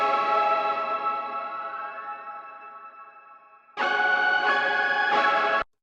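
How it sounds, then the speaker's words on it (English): Layered synth keys from four patches stacked on one MIDI channel ring out as a long, bright chord with a swelling, effected shimmer. It fades, then a second loud chord cuts in and stops abruptly. "that's what gives you this really layered, complex key sound"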